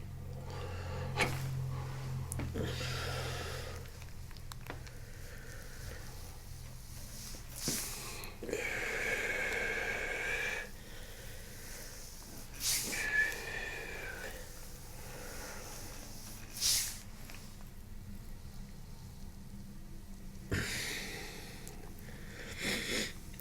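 A patient breathes deeply in and out on a chiropractic table, soft airy breaths and sniffs under quiet room noise, with occasional light knocks and short gaps between breaths.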